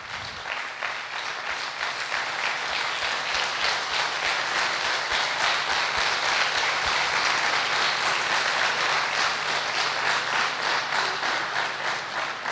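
Audience applause at a Brahma Kumaris business-wing talk in India, a sustained, even roar of many hands clapping that swells quickly and holds steady for several seconds.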